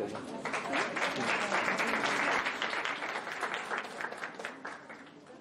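An audience at a nutrition and disease lecture breaks into sustained hand clapping, dense and steady before thinning toward the end, heard from within the hall.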